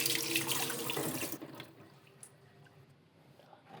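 Tap water runs loudly over fish being washed to rinse off chemicals, a steady splashing rush that cuts off after about a second and a half, leaving faint drips and small clinks.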